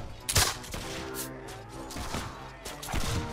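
Firearm volleys in Mount & Blade With Fire and Sword: a sharp close shot followed by a ragged series of further gunshots and cracks across a few seconds, with faint background noise.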